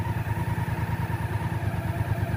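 A motorcycle engine idles at a steady, even beat up close, with a regular low pulse and a light mechanical clatter, with no voices.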